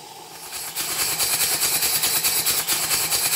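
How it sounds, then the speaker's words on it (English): Steam hissing from the exhaust port of a Southworth boiler feed pump as the steam valve opens, a loud, broad hiss that surges in after a quiet start and pulses steadily with the pump's working strokes. "As I open the steam valve, steam goes to the cylinder and some of it comes out of the exhaust port."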